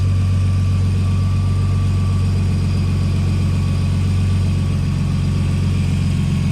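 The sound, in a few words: car engine idling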